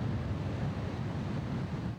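Floodwater roars through the open spillway gates of Chickamauga Dam after heavy rain, a dense, steady, low rushing rumble with no talk.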